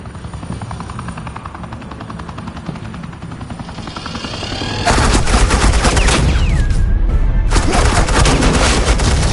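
Suppressing gunfire in a Batman video game bursts in halfway through, a dense, loud, continuous barrage over a droning helicopter-like rumble that fills the rest of the clip.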